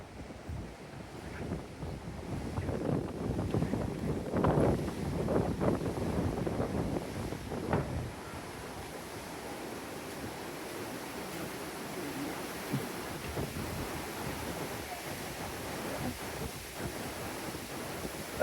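Strong wind buffeting the microphone at a seafront in Hua Hin, with choppy sea waves washing in. Gusts swell loudly around the middle, then settle into a steady rushing hiss.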